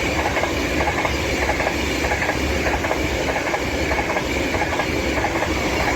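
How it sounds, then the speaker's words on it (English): A Class 390 Pendolino train passes through Stafford station on the West Coast Main Line, a loud, steady roar of wheels and rail clatter that fills the whole stretch up close. "here comes a 390 Pendolino from Liverpool Lime Street to London"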